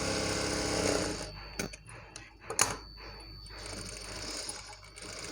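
A sewing machine stitches a baby frock with matching thread, a steady mechanical whirr broken by a few sharp clicks and pauses, at moderate level with no talk.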